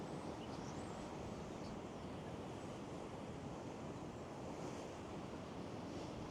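Sea waves surging around a pier at Gorleston on Sea on a sunny day, a steady broad roar of surf with wind buffeting the microphone, continuous and fairly distant, no voices.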